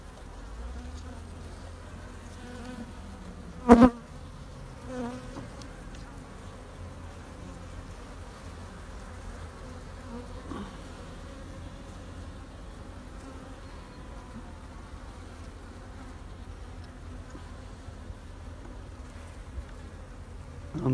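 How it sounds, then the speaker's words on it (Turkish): A low, continuous drone of honeybees buzzing around hives being transferred, fairly faint, with a sharp knock early on and occasional nearer passes. "Çünkü burada arılar var, onları toparlamam lazım."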